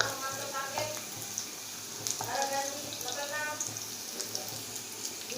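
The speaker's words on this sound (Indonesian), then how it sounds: "tempe saya sudah mulai masak" Tempeh frying in a pan, sizzling with a steady crackling hiss at close range, fairly quiet, with faint background voices underneath.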